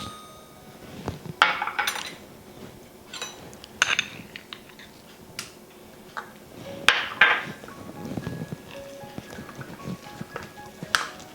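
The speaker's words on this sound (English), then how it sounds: "So we're going to mix jaggery and ghee until they both mix very well." A spoon clinks and scrapes against a pan while jaggery and ghee are mixed into a modak filling, giving scattered sharp metallic taps at an uneven pace over a low, steady background.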